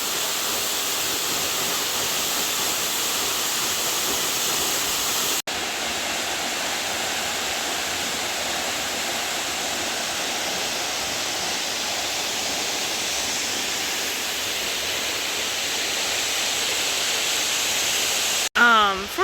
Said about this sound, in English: I don't know if you can hear me over the waterfall